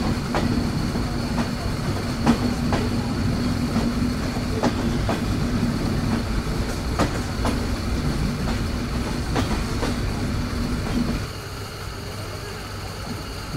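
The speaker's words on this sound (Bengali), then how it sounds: "নওপাড়া রেলওয়ে স্টেশনে আমাদের ট্রেন তার নির্ধারিত যাত্রা বিরতি শেষ করে আবারও ছেড়ে দিল ঢাকার উদ্দেশ্যে" The Jahanabad Express pulls out of Noapara railway station, bound for Dhaka, with a steady rumble and rhythmic clickety-clack of wheels over rail joints, heard from on board until the noise drops near the end.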